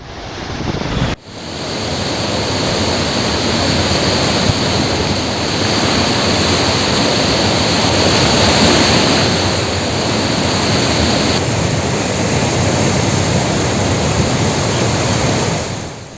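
Floodwater rushing out of the Pulichintala project gates, a loud, steady roar of churning water that begins abruptly and continues unbroken, with wind buffeting the microphone.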